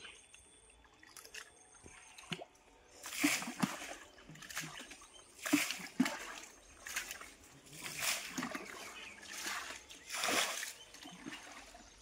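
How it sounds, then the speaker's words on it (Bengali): Water from a basin splashes into a muddy pond during fishing, heard as a series of close sloshing pours and splashes in irregular bursts, with faint voices in the background. "গামলা ধরে ঢেলে দে এখানে"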